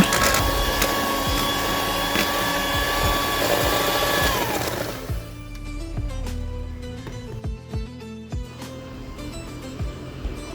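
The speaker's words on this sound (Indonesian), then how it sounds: "Ini saya mixer kembali Mamis, pokoknya kurang lebih totalnya sekitar 5 menitan ya Mamis" An electric mixer beating nastar cookie dough runs loud and steady at first, then drops to a lower, lighter whir partway through, with some clattering against the bowl.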